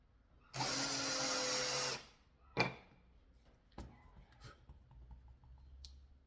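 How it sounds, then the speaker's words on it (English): An electric drill fitted with a makeshift copper pipe bit whirs for about a second and a half through scrap wood, then cuts off, followed by a few sharp clicks and knocks. "my little copper pipe makeshift drill bit in the electric drill"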